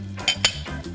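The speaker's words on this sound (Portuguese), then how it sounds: "Vamos mexer." Tuna and tomato filling for pastry, cooked with wine, being stirred in a pan: a spoon scrapes and knocks twice against the metal amid soft, steady simmering, close by.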